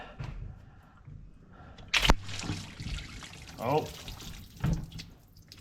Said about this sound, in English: Let's see if I can get this tote over here to catch this antifreeze.